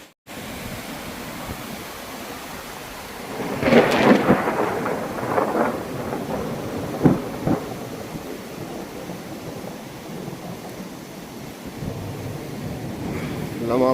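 Thunder rolls over steady rain on a mountain trek between lakes and passes, a loud crack and rumbling swell near the middle fading into hiss, with wind buffeting throughout.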